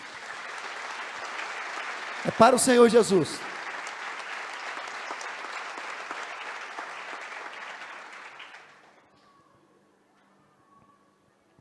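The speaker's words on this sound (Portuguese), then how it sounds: "Você pode aplaudir o Senhor Jesus?" A church congregation applauds Jesus during a sermon, sustained clapping across the hall for about eight seconds before fading out, with a brief spoken phrase over it near the start.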